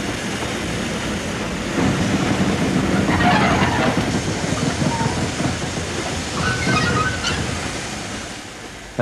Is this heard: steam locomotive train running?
yes